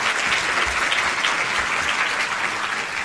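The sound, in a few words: audience applause for the gentleman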